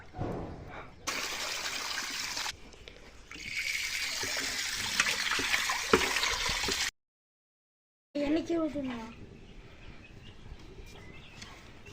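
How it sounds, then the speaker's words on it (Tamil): Water trickles and splashes while a new clay pot that was soaked is rinsed, with intermittent pouring, a short silent gap, then more dribbling and faint bird-like chirps. "நம்ம புதுசாக வாங்கின மண் சட்டி இப்போ தண்ணி வச்சு நம்ம ஊற வச்சுருக்குறோம் இதை கழுவ போகிறோம்"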